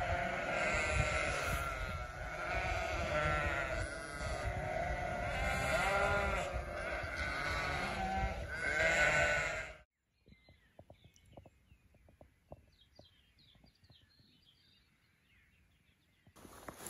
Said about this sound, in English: hopefully it'll lead to somewhere where the noisy sheep will just stop